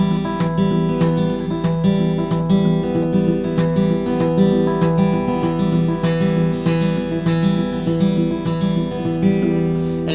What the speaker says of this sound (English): Now with palm muting, it sounds like this.